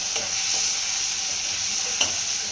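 Masala stirred through prawns and tomato in a hot pan, a continuous close sizzle with soft scraping strokes and a single sharp tap of the spoon late on.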